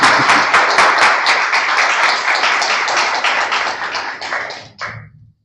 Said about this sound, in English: Again, a round of applause for both of them.